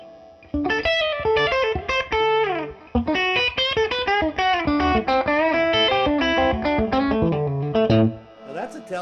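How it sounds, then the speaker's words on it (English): A 1959 Fender Esquire-style Telecaster on its lead pickup plays a continuous melodic phrase through a Fryette Memphis 30 amp's clean channel, with delay off and reverb up. The notes are loud and ringing, with brief gaps between phrases and no talking. "Now that's a Telecaster."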